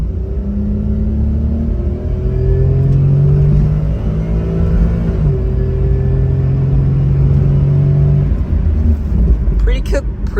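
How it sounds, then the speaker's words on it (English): A Honda Z car accelerating hard in D4 automatic drive, its engine rumbling loud and steady with rising, stepping drone tones as gears shift smoothly over about ten seconds, heard from inside the cabin. "This is me punching it."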